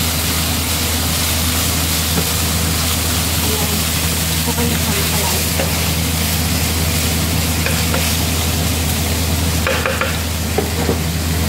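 Chicken Arabian curry is stirred in a pan, with a steady close frying sizzle and the soft scrape of a utensil running continuously throughout.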